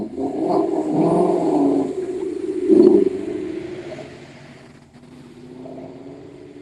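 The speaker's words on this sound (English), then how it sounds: "those engine revving sounds" A car's engine revs during a rolling evening car show in Doylestown, a loud low rumble that swells around the middle, then fades to a softer idle-like drone.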